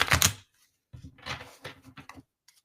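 Tarot cards are shuffled by hand close up, making bursts of riffling and papery slapping. A long burst comes first, then a pause, then a run of shorter shuffles, with no talk over them.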